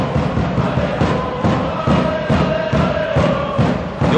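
Supporters in the stands at Fukuda Denshi Arena during a Kanto university football league match between Juntendo and Ryutsu Keizai roar and chant together over a steady, rhythmic thumping beat, loud and continuous throughout.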